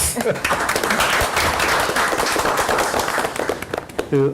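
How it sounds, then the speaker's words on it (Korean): A Korean audience at a youth gathering claps together in dense, sustained applause that runs loud and steady throughout, tapering slightly near the end, with cheering voices mixed into the crowd. "박수 한번 쳐드리자고."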